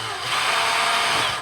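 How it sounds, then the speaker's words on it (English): A power drill bores holes for the mounting base of a Fortress Power eForce battery during a home inverter install, a loud, steady whine held throughout with no pauses. "Remove the base and drill the holes."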